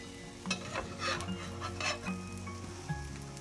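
A pancake sizzles softly in a pan after being flipped, with light scraping and utensil taps over the quiet frying and music faint in the background.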